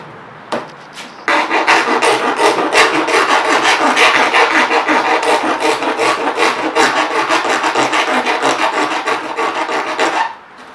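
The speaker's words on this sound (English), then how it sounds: "now get a round file and try and get that to fit in there" Continuous rasping of a round file working back and forth on a homemade pond filter part, steady rhythmic strokes, close and loud, with no talking.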